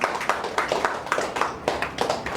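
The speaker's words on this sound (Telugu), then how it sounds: "మీకు మీరే చప్పట్లతో స్వాగతం చెప్పాలి" An audience claps at a felicitation ceremony honouring charcoal artist Rikki Tej, the claps landing in a fairly steady rhythm of bursts at a moderate distance, with no talk over them.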